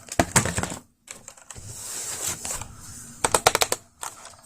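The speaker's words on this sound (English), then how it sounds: "Usually type in my lap with my unconventional computer setup." Clacky keystrokes on a cheap 60% mechanical keyboard made by Geeknet, typed in a lap, come in quick close bursts separated by short pauses and a steady low hum.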